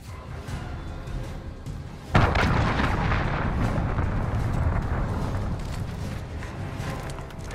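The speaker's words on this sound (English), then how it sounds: "Enemy cruise missile." Cruise missile strike in a military shooter game: a sudden heavy explosion bursts loudly after a quieter stretch, then rolls into a long, dense rumble of blasts and debris that fades slowly.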